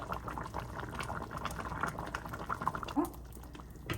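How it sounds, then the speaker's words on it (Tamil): Fish curry with sardine and pomfret head simmering in a pot, a steady low bubbling and gentle popping that runs throughout at close range, with no talking. "கொஞ்சம் நல்லா கொதிச்சதுக்கப்புறம் நம்ம பார்க்கலாம்"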